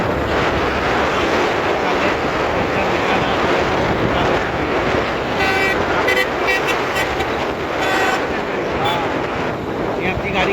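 A car horn honks repeatedly in short bursts on a road, heard from inside a moving vehicle over constant engine drone and heavy wind buffeting.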